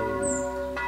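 The middle bell in the tower of Roholte church rings automatically, a sustained metallic toll with a rich, lingering hum that carries steadily through the whole moment, with no voices.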